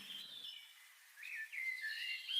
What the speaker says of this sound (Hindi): पक्षियों का चहकना